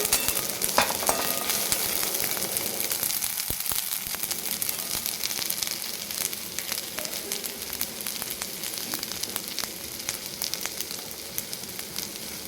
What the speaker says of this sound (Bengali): সব মশলা দেওয়ার পরে ভালোভাবে নাড়িয়ে নেবো আমি এটাকে